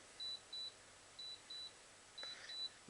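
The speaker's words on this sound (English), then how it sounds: "turn the transmitter on. And you hear it beep" Short electronic beeps from a radio transmitter powering up, in pairs, then a faster flurry near the end, thin and high-pitched against a quiet background.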